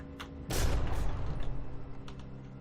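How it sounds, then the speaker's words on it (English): Cannon fire in the From the Depths naval combat game, with cram cannon shells striking the rear of a small boat and knocking off its propulsion: a loud blast at about half a second, followed by a rumbling, crackling impact and a few fainter later hits. "Cram cannon though, hitting at the rear of the Pre-Walnut, knocking almost all of its propulsion off"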